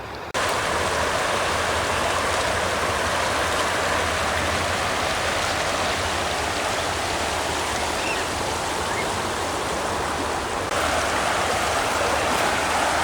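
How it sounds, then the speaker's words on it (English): Gushing river water of the Shishamar rushes steadily and loudly from start to finish, a dense broadband roar close by with no pauses and no voices. "standing on the banks of River Shishamar and enjoying the gushing sound of the waves"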